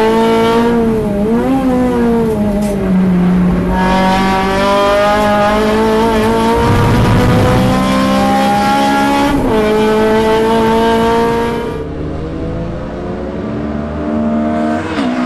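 Race car lapping a circuit on a track day on Dunlop Direzza tyres, engine note rising and falling steadily through gear changes, with tyre squeal and a brief dip near the end.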